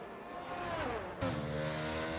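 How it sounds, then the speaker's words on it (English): Engines of F1 cars in a racing video game, a pack of sixteen cars rounding a hairpin at Imola, whine loudly and continuously, pitch dropping as they brake, then a sharp jump to a dense, overlapping drone of many engines. "the horde of cars, 16 F1 cars heading around this little hairpin"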